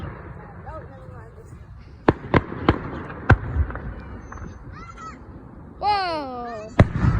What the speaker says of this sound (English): How do they make fireworks?